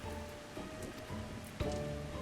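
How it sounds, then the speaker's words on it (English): Steady rain patters in the video game Final Fantasy XIV, a dense continuous hiss of drops with a slightly louder splash near the end and no voices. "The rain is stopping, thank goodness."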